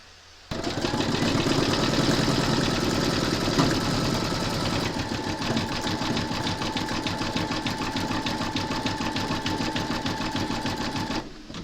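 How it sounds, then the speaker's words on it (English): Sewing machine running steadily through decorative stitching on a crazy-patch notebook cover, a continuous loud mechanical whir with rapid needle rhythm and a slight change in pitch partway through, with no voices. "Load your thread colour for the next run of decorative stitching up here into your machine, and then stitch round number 14."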